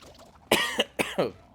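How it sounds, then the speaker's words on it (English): Two sharp, close coughs in quick succession, each with a brief follow-through, against a quiet background. "Hot chocolate makes me cough sometimes."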